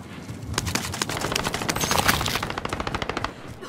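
Rapid automatic gunfire in Call of Duty: Warzone, a loud burst of dense, rattling shots close by, followed by sparser individual cracks as the firing tapers off.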